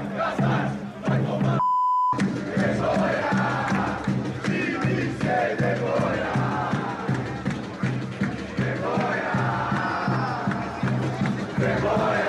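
Crowd of São Paulo supporters protesting outside Vila Belmiro before a match, a loud continuous roar of massed voices and chanting with a brief beep near the start, then sustained shouting throughout.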